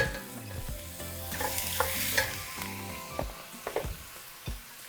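Lean ground beef and onion cook in a hot pan for a Mexican picadillo soup, giving a moderate sizzle with scraping and stirring knocks from a utensil, busier toward the end, without any voices.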